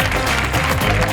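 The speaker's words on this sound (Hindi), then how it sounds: "तालियां।" A studio audience at a talk show claps loudly and continuously to welcome a guest, a dense close wash of applause with no gaps.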